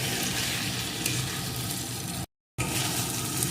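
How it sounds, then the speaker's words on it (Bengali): Fish and potatoes frying in a pan with cumin and ginger paste for a Bengali tangra fish curry with new potatoes, giving a steady, dense sizzle that breaks off briefly and then carries on, with no voices. "এখন এই মশলাটা দিয়ে এগুলোকে ভালো করে কষিয়ে নেব"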